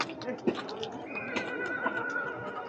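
A horse is led through deep mud at an animal market in Anthiyur, giving a short whinny and a few soft hoof thuds amid crowd murmur and someone speaking nearby.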